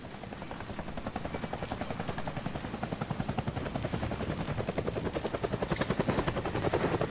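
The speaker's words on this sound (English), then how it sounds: "That's the helicopter chasing my friends." A video game helicopter's rotor in Deadlight chops steadily and loudly throughout, a fast thudding pulse over a constant engine whine, with no voices.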